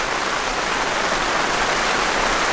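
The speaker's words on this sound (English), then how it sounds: "not in this pouring rain" Heavy rain pours steadily onto a rooftop tent, a dense, even hiss of drops drumming on the fabric with no pauses.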